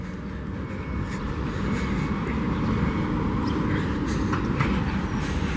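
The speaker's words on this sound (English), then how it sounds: "this is an old school tram back here" An old tram in Iași, Romania, a steady low rumble of wheels and motor, loud and continuous with faint squeaks and no talk.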